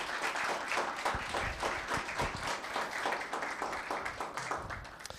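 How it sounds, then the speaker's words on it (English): Audience applause at a Los Gatos town council meeting, a steady dense wash of many hands clapping that holds at an even loudness for several seconds with no talk over it. "Let's give him one more round of applause."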